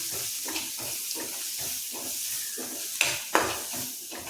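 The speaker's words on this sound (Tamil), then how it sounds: "ஒரு நிமிஷம் அப்படியே அந்த எண்ணெயில் கிண்டி விட்டுக்குவோம்." Spice powders stirred into hot oil in a pan while making egg momos, a steady sizzle and hiss with rhythmic scraping strokes of stirring and a couple of sharper clinks near the end.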